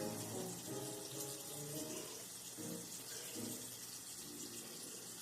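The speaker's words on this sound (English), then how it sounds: "I'm going to wash the inside of my hands." Running tap water flows steadily over hands during a handwashing routine for nursing skills practice, a soft continuous splash with faint shifts as the hands move under the stream.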